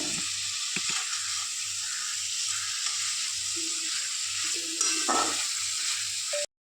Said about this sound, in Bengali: এপিট ওপিট করে নেড়ে দিয়ে দিলাম